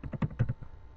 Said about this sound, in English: So basically we type in document dot write.